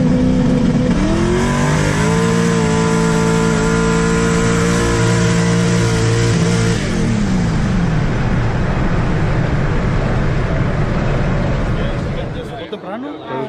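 Tesla Model S Plaid and a twin-turbo Chevy Silverado race off the line, a loud engine roar rising in pitch as it accelerates, then a broad rushing drone that fades near the end.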